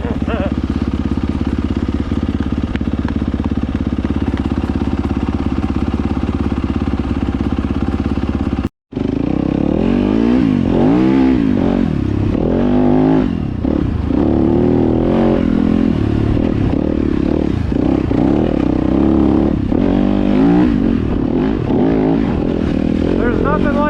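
A Yamaha YZ250FX dirt bike revs hard while riding, with loud, near engine roar rising and falling through repeated throttle changes; a brief dropout near the start, and the engine continues steadily afterward.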